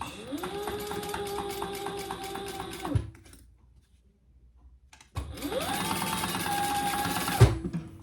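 A sewing machine bastes fabric for a wristlet at a steady, fast whirring stitch. It runs for about three seconds, pauses, then starts again and runs for a few more seconds, close and loud.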